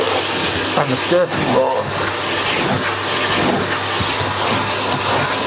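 A SEBO Felix vacuum cleaner fitted with its stair tool runs with a steady, loud motor whine and suction roar, while a person talks over it.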